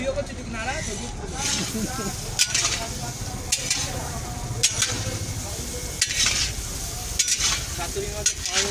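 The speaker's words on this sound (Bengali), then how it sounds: "রান্না করছে বড় কড়াইতে" Food is stirred and fried in a large wok for a Saraswati Puja feast of khichuri and alur dom, with steady sizzling and repeated scraping strokes of a ladle against metal while people talk nearby.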